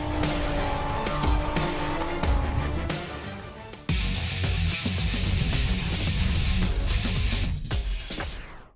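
Drift cars tear through the last corner at the Mallala drifting Grand Prix, engines roaring with sustained tire squeal and skidding that stays loud for the whole stretch, then a brief drop-off at the end.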